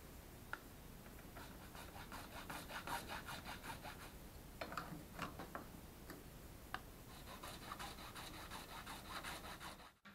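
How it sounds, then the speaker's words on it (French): A small file cuts a string notch into a plastic tube bow, giving quiet, fine rasping strokes in an uneven rhythm with light ticking clicks. The work sounds close and soft, and no voice is heard. "avec la lime, la petite lime, ici je vais venir limer et faire l'encoche pour la corde"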